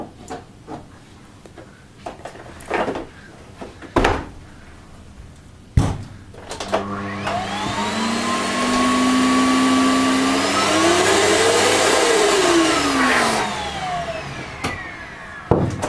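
Several clunks and knocks come first, then a Vax Power 7 Pet vacuum cleaner with a freshly replaced motor whirs up to a loud, steady whine, sweeps in pitch and winds down, with more knocks after.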